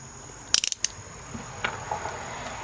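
Joystick center post being screwed together, a quick run of about five close, crisp ratcheting clicks of threaded parts, followed by fainter handling noises in a quiet room.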